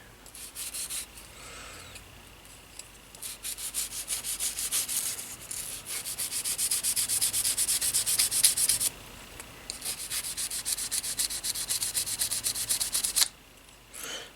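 Rags rubbing and wiping over the bolt and other parts of an M1A rifle during cleaning, a close, bursty scrubbing that runs in long passes with brief pauses.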